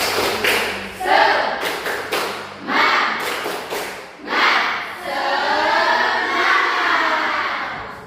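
Students at a junior high school clap a rhythmic 'tepuk semangat' routine in a classroom, loud bursts of claps in patterned groups with voices chanting along.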